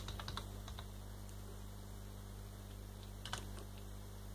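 Typing on a computer keyboard to control a Z80 emulator, a few faint scattered key clicks near the start and again near the end over a steady low hum, with no talking.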